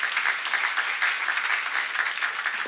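A church congregation claps together during a Korean sermon seminar, a steady dense patter of many hands sustained evenly throughout without a break.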